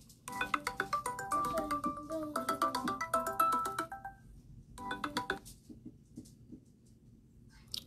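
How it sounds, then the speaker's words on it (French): Telephone ringing in an electronic melodic ringtone, a quiet repeating warble that plays in bursts and then stops, with no talking. "décroche l'autre téléphone là, Donnie."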